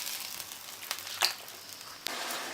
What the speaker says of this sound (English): So mix well with the onions, and we are going to cook them for some time.